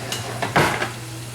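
A cooking spoon scrapes and knocks inside a pot of ox heart stew, a few quick, close metallic clatters and one sharper scrape over a low hum.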